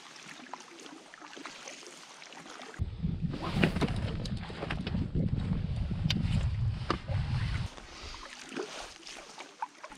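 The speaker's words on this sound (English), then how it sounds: "And now we're paddling Hobart Lake through another channel up into Tupper Lake" A canoe paddled across Hobart Lake in the Canadian wilderness gives soft rhythmic water swishes and gurgles. A louder burst of splashing and churning lasts several seconds, with faint bird calls around it in the background.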